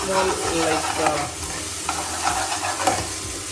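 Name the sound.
stirring tapioca pearls continuously in a pot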